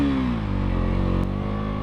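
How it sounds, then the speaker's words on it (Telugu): A 2025 KTM Duke 200 motorcycle engine and exhaust rev with a steady, loud, close harmonic drone whose pitch dips and then holds, with no talking. "ఎగ్జాస్ట్ నోటు బండి నడిపేటప్పుడు ఇంకా నడపాలనిపిస్తుంది"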